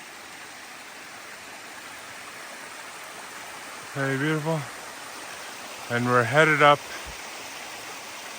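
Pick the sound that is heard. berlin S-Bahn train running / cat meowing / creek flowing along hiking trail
creek flowing along hiking trail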